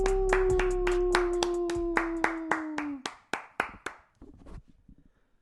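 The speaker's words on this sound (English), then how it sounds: "Everybody give her a round of applause." A burst of rhythmic hand clapping, a dozen or so sharp claps, with a sustained tone underneath for the first part before the claps thin out and fade.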